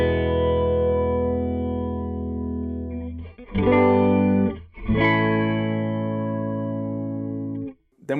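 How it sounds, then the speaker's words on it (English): Electric guitar through the M-Vave Blackbox with chorus engaged, sustained chords shimmering with a wavering, doubled quality, a few strummed changes midway, loud and clear with no talking. "you see you've got chorus there. Let's turn it on."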